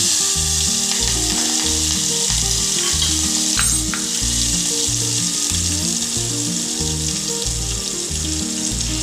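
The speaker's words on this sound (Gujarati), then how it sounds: "થોડા મરચાં લીલા છમારીને લીધા છે ઝીણા ઝીણા તે એડ કરીશું." Finely chopped green chillies fry in hot oil for a Gujarati batata vada mixture, a loud, continuous sizzle with a steady scraping rhythm of stirring throughout.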